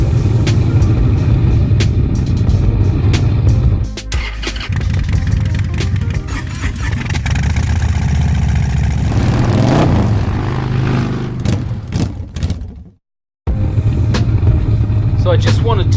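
A Harley-Davidson Sportster motorcycle engine rumbles loud and close with a deep steady throb, rising and falling with the throttle, under a voice speaking, before cutting out briefly near the end.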